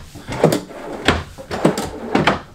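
Drawers sliding open and shut in the kitchen of a 2021 Keystone Montana 382TH fifth-wheel RV, four distinct thuds spaced about half a second apart, close and moderately loud with no talking.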